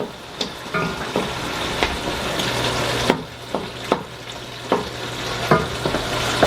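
A spoon scrapes and knocks repeatedly while broken-up tomato quarters are stirred into a pot of homestyle chili, with wet squelching and a light sizzle under irregular close-up clacks.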